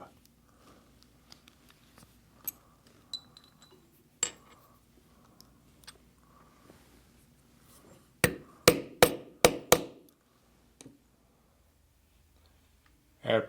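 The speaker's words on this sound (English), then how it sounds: "I will do this with a rivet of the proper size, depending on the thickness of my strap." A hammer drives a rivet into a thick leather guitar strap, with quiet scattered taps first and then a rapid burst of about six sharp, loud metallic blows near the end, followed by one final strike.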